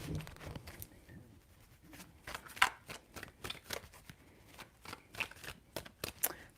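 Tarot cards are shuffled by hand in a quick series of crisp riffles and soft taps, close and quiet, with no speech.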